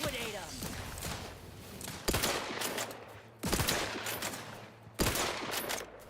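Gunfire in Outer Worlds 2, with sharp, loud shots and short bursts breaking in every second or so, one ringing over another, amid a busy background with a voice talking.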